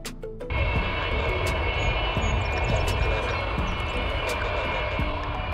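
The six-engine Antonov An-225 Mriya cargo jet roars with a steady, loud, broad engine rumble and a high whine that start suddenly after a brief quieter moment and hold throughout.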